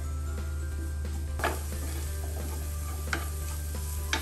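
Grated carrot with milk powder is stirred and fried in ghee in a pan for a carrot malai chop, a steady low sizzle and hum broken by soft scrapes and a few sharp utensil clinks.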